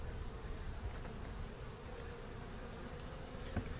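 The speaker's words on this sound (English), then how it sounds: "there's not a bad population of bees in here" Honey bees in a weakened laying worker hive buzz as a steady, dense drone close to the open box, with a few faint knocks from handling and no talk.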